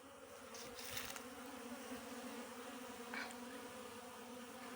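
Honeybees buzzing at a hive, a steady, faint, dense drone with no talk.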